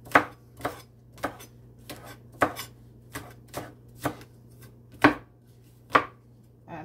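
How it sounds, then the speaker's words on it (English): A knife chops green onions, white and green parts, on a board in about a dozen crisp, evenly spaced thuds over a faint steady hum, close and with no talking. "So right now I'm gonna be doing, cutting up some green onions."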